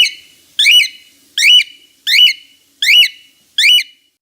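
Five loud, shrill two-part whistled flock calls from a cockatiel, evenly spaced about every three quarters of a second, clear and close with silence between.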